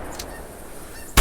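Geese honk in the hunting video game theHunter Classic, a few faint distant calls over quiet ambience, ending in a sudden loud shotgun blast right at the close.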